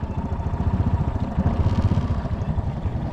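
A Honda Rubicon 520 ATV engine idles while submerged underwater, producing a steady, low, rhythmic burble with a loose clattering edge. It sounds close and continuous, with no talking.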